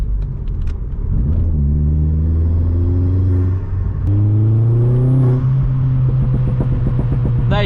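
A Vauxhall Astra VXR accelerates hard through the gears on a road, its engine note rising and dropping with each shift, followed by a rapid series of crackling exhaust pops near the end.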